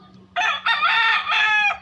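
A single loud, close crow from a hybrid rooster in three drawn-out segments, over a faint low hum.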